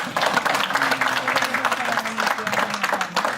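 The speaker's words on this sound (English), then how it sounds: "Let's have a round of applause for them." A small audience at a fundraising evening in Manassas applauds two young women who have just spoken on stage, giving steady, moderately loud clapping throughout with a faint murmur beneath.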